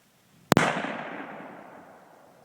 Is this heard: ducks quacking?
no